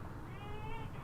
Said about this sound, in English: What are you meowing at me for?